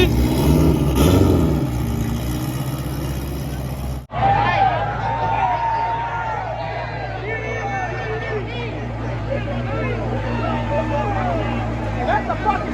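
A drag truck's turbocharged engine revs loud and close, with raucous crowd chatter and voices layered throughout and a sharp cutoff partway before the roar continues.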